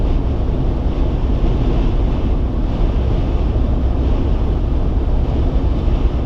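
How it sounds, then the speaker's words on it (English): Strong wind roaring steadily into the microphone near the tip of Newfoundland, a constant low rumbling buffet with no pauses and no voices. "Holy smokes, is it windy?"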